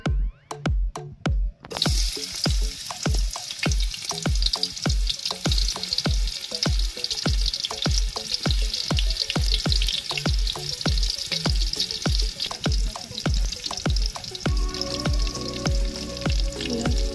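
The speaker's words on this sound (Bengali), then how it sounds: "এবার পরিমাণ মতো সাদা তেল, ঘি ও পেঁয়াজ দিয়ে বেরেস্তা করে নেব" Onions fry in white oil and ghee in a hot pot, a loud continuous sizzle with crisp popping, under a steady run of rhythmic thumps from start to finish.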